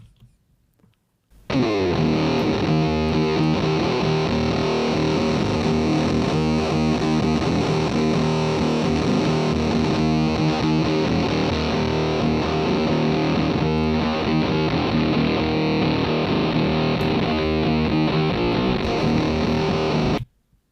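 Loud, dense music plays continuously for about twenty seconds, its high frequencies cut by a shelf EQ giving a dull, muffled top end, ending abruptly.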